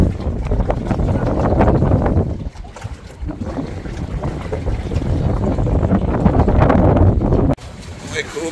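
Strong wind buffets a rolling fishing trawler out on the Bay of Bengal, a loud continuous roar with gusty surges and a brief drop near the end.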